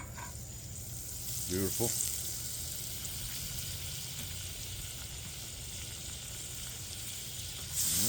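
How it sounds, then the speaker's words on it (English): Butter melting in a hot pan, giving a steady, fairly quiet sizzle and hiss that swells briefly near the start and again at the end, with a short spoken remark over it. "Now we're going to throw some butter in there."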